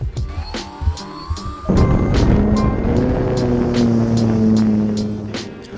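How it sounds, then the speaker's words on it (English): An RC plane's small electric motor whines up and holds a steady buzzing drone at takeoff, following clicking handling noises, with the pitch shifting slightly as it climbs away. "here we go with smoke on the RC plane"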